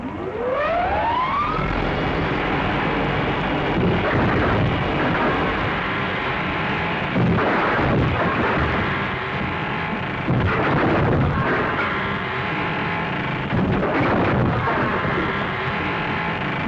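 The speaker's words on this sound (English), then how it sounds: "Firing at him from the window." Gunfire from a window in a 1935 western film: several heavy shot bursts break through a dense, noisy old soundtrack, with a rising wail at the start and a constant loud wash throughout.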